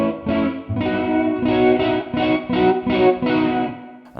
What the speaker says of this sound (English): So we're just getting all that horrible fizzy distortion over the top that sounds like it's being, you know, driven